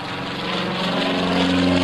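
Aerobatic propeller airplane flying back-to-back triple loops at an air show, its engine drone steady and continuous, swelling slightly louder over the short stretch with no talk.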